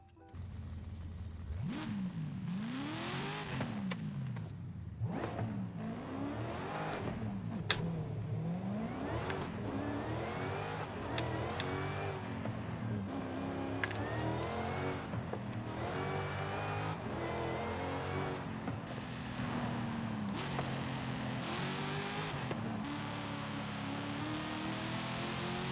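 A supercharged Dodge Demon Hemi V8 in the Forza Horizon 5 racing game revs and accelerates hard through repeated gear changes, the loud engine note rising and dropping again and again over about twenty-five seconds, with no talk.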